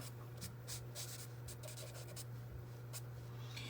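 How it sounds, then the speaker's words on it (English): Pencil sketching on paper, a steady close scratching with repeated short strokes over a constant low electrical hum. "this is really just kind of like a sketch right now, sketching it out"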